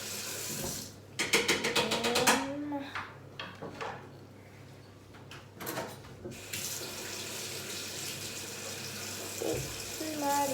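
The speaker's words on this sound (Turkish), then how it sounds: "Tamam suyumu katacağım." Water from a tap splashes and runs into a mixture being prepared in a kitchen, with clinks of dishes and drawer bumps early on, then a steady pour and trickle with someone speaking briefly.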